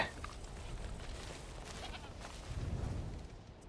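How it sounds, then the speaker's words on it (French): Goats bleating in the video game Cairn, several soft calls spread through a steady ambient bed of game sound, fairly quiet and slightly distant. "Il y a plein de chèvres là-dedans."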